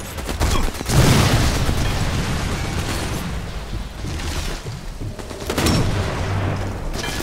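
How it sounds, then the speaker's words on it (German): Gunfire and booming blasts in the video game Sniper Elite 4, a few sharp heavy reports with rumbling decays spread across a noisy game soundscape, loud and close. "Ja, drei Schüsse, genau."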